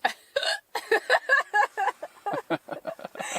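Repeated sharp hiccups in quick succession at a winter bush camp with a hot tent and G stove, each short burst close and fairly loud, with brief gaps between them.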